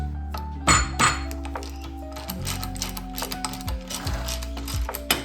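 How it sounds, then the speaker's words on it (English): A ratchet clicks rapidly while loosening the nut that holds the rod in a motorcycle fork, close and loud, with metallic clinks from tools and parts between the bursts. "So now I'll be undoing the nut that holds in the rod"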